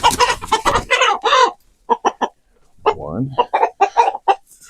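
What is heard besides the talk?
roosters clucking while being caught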